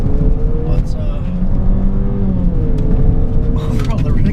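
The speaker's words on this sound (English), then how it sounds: "we have a 9-speed automatic in this Jeep Renegade paired to its 4-cylinder engine" A 2016 Jeep Renegade Trailhawk with a 4-cylinder engine and 9-speed automatic drives off-road over dirt and stone gravel. Its engine rumbles loudly and steadily, mixed with continuous road and tire noise.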